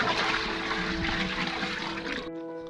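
Lots of water being poured out for mixing mud bricks makes a loud, continuous gushing splash that fills the clip and then cuts off abruptly near the end.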